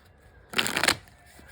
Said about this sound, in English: I have shuffled this deck, Two of Cups, that I am shuffling right now.